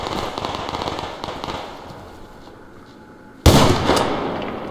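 Gunfire in the Survarium shooter: a dense spell of crackling shots fades out, then a sharp loud burst breaks in near the end and keeps ringing on.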